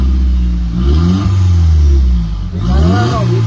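A Skoda VRS Mark 1 engine with its exhaust resonator removed revs loudly and up close, climbing and falling twice in quick succession.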